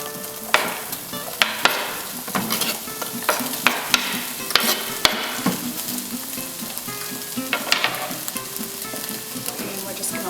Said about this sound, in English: Since it's fully cooked, we can now add the onions.